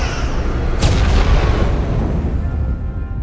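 Starship weapons fire in the Star Trek Resurgence video game: a loud, sharp blast erupts near the start and decays into a rumbling, sustained roar of battle noise.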